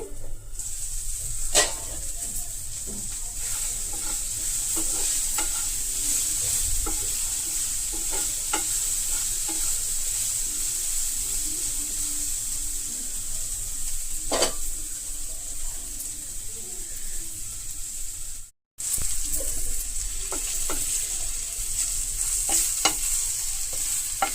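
Ivy gourd (dondakaya), homegrown on a terrace, fries in a pan with a steady hiss and crackle. Occasional scrapes of a spoon stir it, close and continuous, broken by one brief silent gap.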